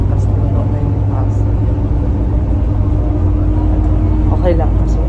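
Interior of a crowded bus in motion during a daily commute, with a steady loud engine rumble and road drone throughout and faint passenger sounds beneath.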